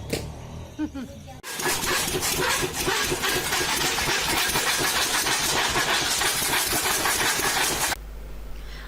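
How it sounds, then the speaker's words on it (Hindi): A tractor-powered fodder chopping machine cutting animal feed in a village, a loud steady mechanical clatter and engine drone that starts abruptly, runs for several seconds, then cuts off, with quieter sounds before and after. "और ये देखिए चाचा जी चारा काट रहे हैं मशीन में अपने पशुओं के लिए।"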